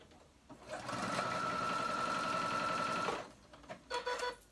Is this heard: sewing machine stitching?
yes